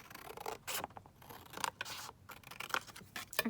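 Scissors snip through a collage masterboard paper piece in a few quick, close cuts with short pauses between, crisp and fairly loud against a quiet room.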